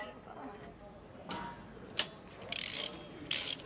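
Bolts being torqued with a wrench during McLaren supercar assembly in a factory: soft mechanical clicks and ratcheting, followed by sharp bursts of hissing air tools, over faint workshop background.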